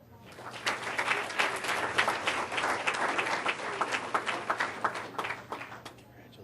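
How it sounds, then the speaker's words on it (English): An audience at a school board of education meeting gives a full round of applause that swells quickly and holds as a dense, steady patter of many hands before tapering off. "We'll give them a round of applause"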